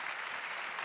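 Audience applause at a large keynote event, a dense, even wash of clapping heard briefly and at low level.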